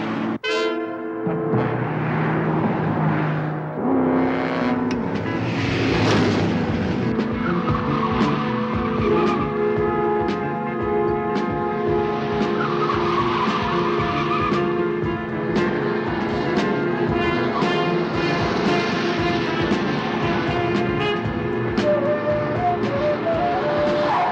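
A high-powered car races during a chase, its engine roaring steadily with screeching tires and skidding throughout, loud and close without a break.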